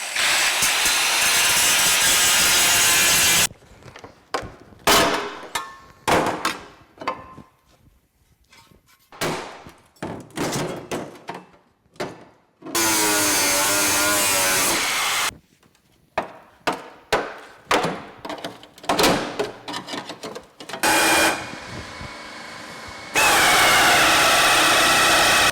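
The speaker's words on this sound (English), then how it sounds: "so I'm just gonna use a grinder and zip those off." Harsh angle grinder cutting off rivets on a Ski-Doo 700 snowmobile chassis during teardown, long continuous screeching cuts broken by bursts of short bangs and knocks, loud and close, no talking.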